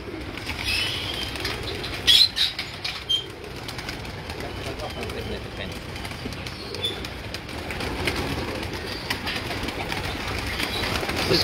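Pigeons coo nearby among bursts of flapping wings, a steady flock sound with people talking over it.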